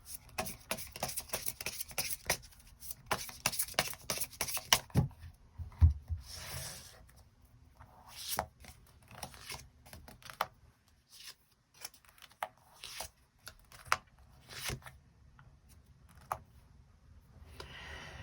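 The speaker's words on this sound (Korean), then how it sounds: "추가 카드 뽑아보도록 하겠습니다" Tarot cards being shuffled and drawn during a reading, with a quick run of crisp riffling and flicking, then scattered softer card slides, taps and rubs on a table, fairly close and without speech.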